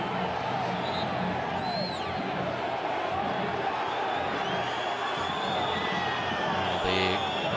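Stadium crowd at a Fuenlabrada versus Las Palmas football match, a steady, dense roar of many voices throughout, with some whistles rising briefly above the wash of noise.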